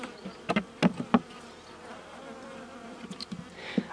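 Honey bees buzzing around a robbed, queenless hive with gnawed wax cappings and no honey left, a few close buzzing passes rising over a faint hum, then quieter buzzing near the end.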